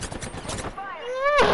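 Fortnite video game gunshots as a fast rattling burst of close, loud fire, followed by a rising whine, with voices mixed in.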